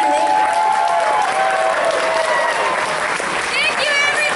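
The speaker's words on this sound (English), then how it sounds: "one more time, round of applause for Jenna Warren" An audience at a charity auction applauds steadily, a dense wash of clapping from a sizable crowd with a few cheers, close and loud throughout with some talk mixed in.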